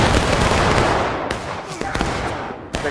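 A rifle volley fired on command in a skirmish video game, heard as a loud, dense crackle of many overlapping shots that fades gradually, with a few sharp late reports near the end.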